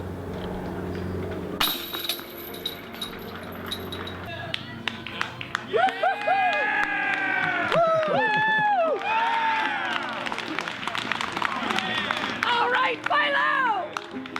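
A crowd at a disc golf event breaks into loud cheering, whooping and clapping after an ace-style shot crashes into the basket, building from near quiet into a sustained roar with excited shouts.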